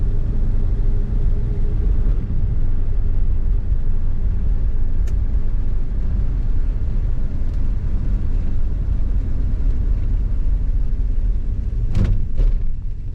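A 1979 Ford Ranchero's V8 engine rumbles deep and steady while the car drives, heavy low drone with road noise throughout and a couple of brief clicks near the end.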